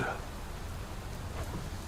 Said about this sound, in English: The rain brings life as well as death, especially the latter on this night.